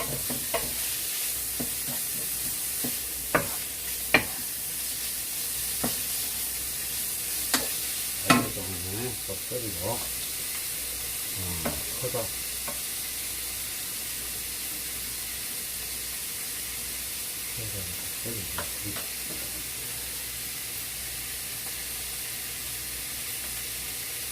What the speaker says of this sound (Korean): 소고기를 다 익을 때까지 기름에 나가서 볶아주는 겁니다.